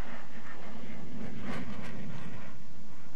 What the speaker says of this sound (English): I just heard a jet